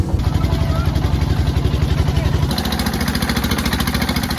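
A small hired motorboat crossing the Brahmaputra river, its engine chugging loudly and steadily nearby, the steady pulse shifting partway through.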